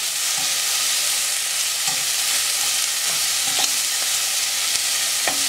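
Thinly sliced onion frying in a pan, a steady hiss of sizzling with occasional soft clinks of stirring, close and continuous.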